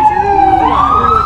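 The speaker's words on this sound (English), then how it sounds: "that's the ambulance." Ambulance siren wailing loud and close as it passes a food truck at night, its pitch sliding upward over a steady traffic rumble.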